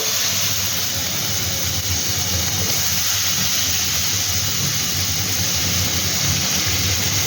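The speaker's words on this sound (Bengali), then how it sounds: "এবার আমি এর মধ্যে পেঁয়াজ কুচিগুলো দিয়ে দেব।" Chopped onions tossed into hot oil with whole garam masala, bay leaves and dried red chilies for a mutton curry, giving a steady, loud, even sizzle and hiss that runs unbroken with no voices.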